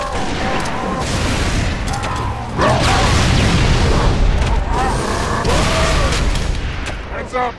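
A grenade blast in Halo 3: ODST Firefight on the Windward map, a loud booming burst near the middle that rises over dense gunfire and game sound, with players talking throughout.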